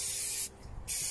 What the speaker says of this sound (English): If I was to spray this now